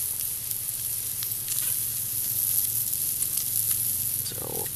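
Slices of canned bologna frying in a pan over a low wood fire, a steady close sizzle and spatter with faint scraping near the end.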